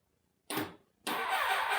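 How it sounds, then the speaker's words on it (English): A Kawasaki ZX6R motorbike engine cranking on a semi-flat battery, two bursts of starter whirring close by, the second longer and steady, with no catch to running. "And it will turn over, because I've been trying to kind of get it to start and run."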